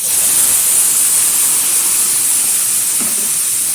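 Boiled milk sweetened with sugar poured into vermicelli frying in a pan, a loud continuous steamy hiss and sizzle that holds steady throughout.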